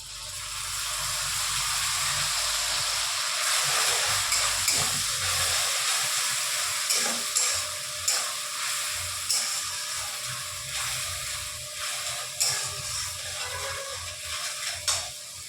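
Ginger, garlic and green chili paste sizzles in a pan with lightly fried onions while cooking a soybean dish, giving a loud, steady hiss with small crackles and pops throughout.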